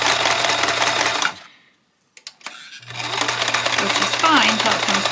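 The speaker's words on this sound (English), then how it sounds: "I find I can control the speed of my sewing machine a little bit better" Sewing machine stitching a junk journal cover, its speed run from a pedal worked by hand on the counter: a close, steady mechanical whir with a low hum that stops for about a second, gives a few clicks, then starts again. A brief voice sounds near the end.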